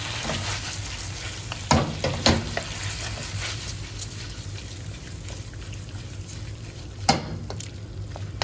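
Chilli chicken stir-fries with a cornflour mixture in a pan, giving a steady, close sizzle with occasional sharp clinks and scrapes of a utensil against the pan.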